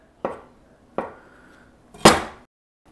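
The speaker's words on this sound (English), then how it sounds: "Just go straight across with your knife." A knife cuts across gluten-free gnocchi dough on a board, three separate crisp taps about a second apart, close and clear, with the last one loudest.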